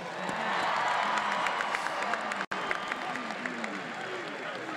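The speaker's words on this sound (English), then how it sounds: "Give her a round of applause, please." Outdoor crowd at a championship parade applauding and cheering, a dense steady wash of clapping with whoops and shouts from many people, held at a moderate distance for the whole stretch, with a brief dropout partway.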